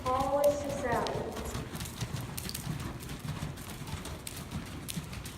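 Horse hooves clip-clopping in a steady rhythm as a rider canters along the rail in an arena riding lesson, heard under an instructor's voice, with a brief neigh-like call near the start.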